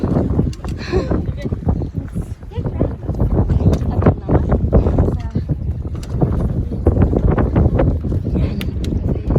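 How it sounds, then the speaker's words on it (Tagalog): Strong wind buffets the microphone during an outdoor hike, a loud continuous low rumble with gusty surges throughout, and voices talk faintly beneath it. "Naku, maingay na to. Dahil ang hangin."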